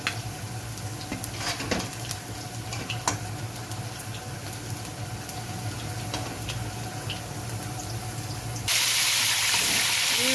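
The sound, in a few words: chicken frying in oil for karahi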